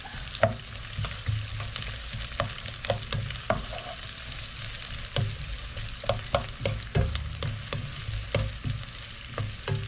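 Onions sauté in a pan for chicken kaldereta, a soft steady sizzle broken by frequent crisp crackles and the clink of stirring, fairly quiet and close with no one speaking.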